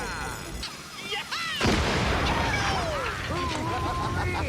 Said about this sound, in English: These explosions never get old.